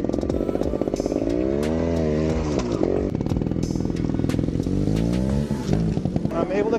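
A motorcycle engine revs hard and climbs quickly through a downhill turn toward a rock step on a hillside trail, the loud rising and falling whine close and continuous throughout, with a rider talking over it.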